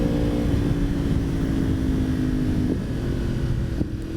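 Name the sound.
2016 Yamaha R1 motorcycle with Yoshimura exhaust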